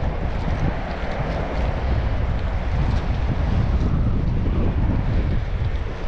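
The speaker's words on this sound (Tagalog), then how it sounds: "Malakas pa yung hangin." Strong wind roars steadily across the microphone while fishing for tilapia from a boat on open water, a constant loud broadband rush with no pauses and no voices.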